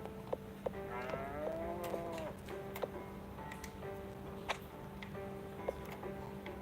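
Cows mooing in the video game Harvest Moon: Hero of Leaf Valley, a long wavering moo early on followed by quieter, shorter lows, over a steady background hum punctuated by sharp, regular tick-like clicks.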